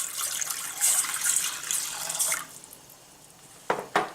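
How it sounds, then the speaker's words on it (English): Water poured from a tap into a cooking pot on a hot stove, a steady close gush that fades out, then two sharp knocks near the end. "I'm going to add in here my water"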